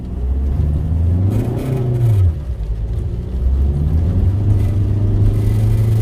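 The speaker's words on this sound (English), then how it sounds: "I spun the tires like crazy." A small car with only about 90 horsepower accelerating from a standstill on an icy road during a tropical storm, its engine revving and whining up and down in pitch while the tires spin, a steady loud rumble throughout with no talk.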